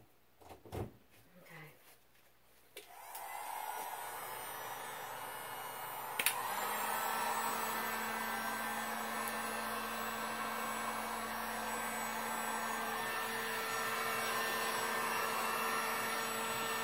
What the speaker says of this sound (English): So let's give the new heat gun a shot.